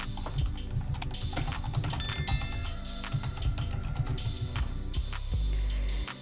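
Steady typing on a computer keyboard while filling in an author bio form on a website, close, quick, even keystrokes with a low background hum and no talk.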